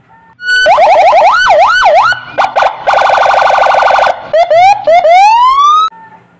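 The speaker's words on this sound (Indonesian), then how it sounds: "Ini ada mobil polisi." A toy police car siren wails loudly and alone in a rising-and-falling electronic warble, breaks into quick chirps midway, then sweeps upward in a few short rising whoops before cutting off.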